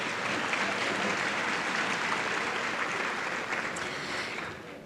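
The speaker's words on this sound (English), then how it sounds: "Let's give her another round of applause." A crowd at the 2018 Spirit of Manatee Awards gives a full, sustained round of applause, a dense even wash of clapping that eases off at the very end.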